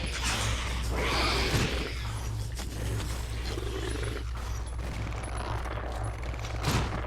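Sustained gunfire from weapons in Resident Evil Zero, a dense run of overlapping shots under a constant low game hum and music, fairly loud and continuous for several seconds with a louder burst near the end.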